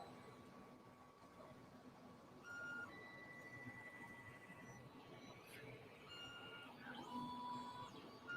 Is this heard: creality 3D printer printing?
yes